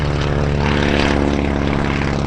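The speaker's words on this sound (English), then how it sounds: "Another antique biplane over from vintage aircraft." Antique biplane flying over at the Sun 'n Fun airshow, a loud close droning propeller engine with steady pulsing throb, no voices.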